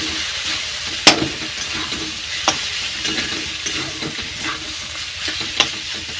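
Soaked sago stirred and frying with already fried potatoes in a pan, a steady close sizzle with occasional sharp clinks of the spoon against the pan, no talking.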